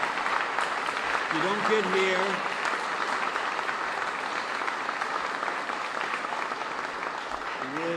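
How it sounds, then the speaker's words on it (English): An audience at a Rhode Island bill-signing making Juneteenth a state holiday gives a sustained round of applause, a steady even clapping that fills the room, with brief speech heard over it. "Let's give everybody a round of applause."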